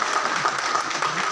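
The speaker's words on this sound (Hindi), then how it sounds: "तालियां बजाएं।" Audience at a prize distribution ceremony held by Gujrat Foundation applauding in a continuous, even wash of clapping, fairly close and steady for the whole short stretch.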